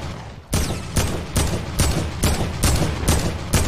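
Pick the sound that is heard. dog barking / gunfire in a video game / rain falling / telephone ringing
gunfire in a video game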